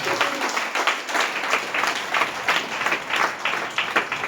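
A church congregation claps together in a quick, regular rhythm, the sharp beats repeating steadily and loudly for several seconds with no voices over them.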